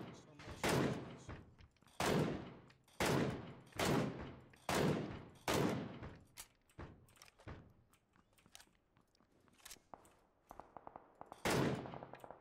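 Loud gunshots crack out one after another at a steady pace in PUBG, then scattered lighter clicks and thumps, with one more heavy blast near the end.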